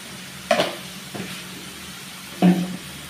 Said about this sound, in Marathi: आता हे सर्व व्यवस्थित परतून घ्यायचं आहे।